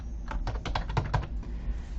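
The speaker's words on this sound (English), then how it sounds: "you can start typing" Steady typing on a computer keyboard, a fast run of close key clicks with no speech over it.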